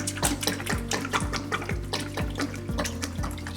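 Standard 32-weight oil pours into the tank of a one-man polyurea pump with a continuous gurgling, glugging flow and a low rhythmic pulse.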